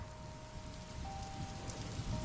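Steady rain patters on surfaces during a drive, a soft continuous hiss of drops with a faint tonal hum running underneath and no talking.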